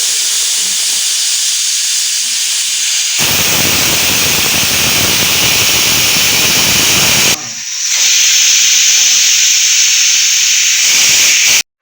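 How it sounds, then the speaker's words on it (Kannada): A pressure cooker vents steam in a loud, continuous roaring hiss that intensifies into a harsher rush, dips briefly, then resumes with a shriller whistling edge before cutting off abruptly. "ಈಗ 3 ವಿಷಲ್ ಕೂಗಬೇಕು."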